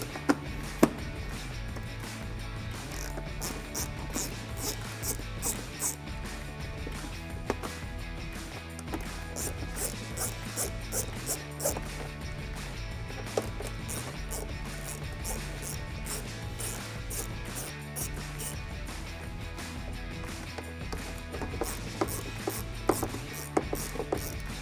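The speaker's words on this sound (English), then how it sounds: "So I'm going to take my ratchet and 10 millimeter and remove these 4 bolts." A ratchet with a 10 mm socket works bolts loose on a Toyota Tundra front bumper, its rapid pawl clicking repeating in steady bursts, close and fairly quiet, with no talking.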